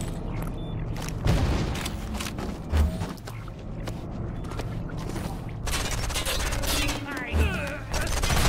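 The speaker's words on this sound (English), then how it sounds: "Grenade out!" Grenade blast in a video game, a loud boom among chaotic gunfire, shattering debris and other explosions, with short bursts of noise scattered across the scene.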